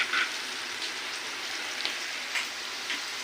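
Food fries in a pan of hot oil while it is stirred now and then, making a steady close sizzle with faint scraping accents and no voices.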